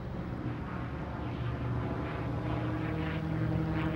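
A P-51 Mustang propeller fighter's piston engine droning steadily and loudly, a rich continuous roar with a pulsing low rumble that holds throughout with no voices.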